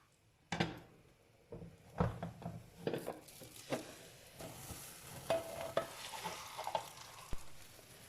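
Just after flipping, a potato pizza fries in a pan with a soft steady sizzle. Repeated clatters, scrapes and knocks of utensil and pan sound up close, and no one speaks.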